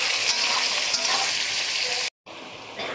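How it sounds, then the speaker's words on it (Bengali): Onion frying in a pan for biryani, a loud continuous sizzle with faint stirring scrapes, broken by a brief gap of silence near the end before the hiss resumes. "পেঁয়াজটা লাল লাল ভাজা হয়ে এসছে।"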